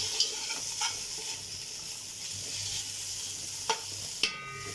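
Meat pieces sautéing in a pot with tomato sauce, a soft steady sizzle with a few sharp clinks of a spoon against the pot, no talking.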